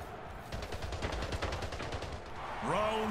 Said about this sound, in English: I hit that guy with one shot.